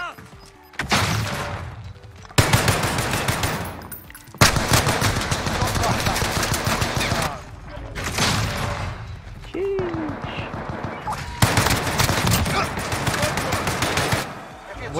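Rapid automatic gunfire from a weapon in a first-person shooter video game, loud and close, arriving in long sustained bursts separated by short pauses, with a voice talking over the shooting.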